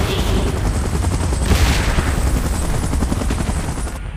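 A helicopter hovers in the PUBG Mobile video game amid a loud, dense wash of rotor and battle noise, with bursts of gunfire-like crackle throughout.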